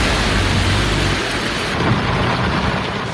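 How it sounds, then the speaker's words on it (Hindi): Heavy monsoon rain pours down steadily over Delhi streets, a dense continuous hiss with low rumbling thunder rolling beneath it throughout, loud and close with no voices. "दिल्ली में पिछले 6-7 घंटे से लगातार बारिश हो रही है"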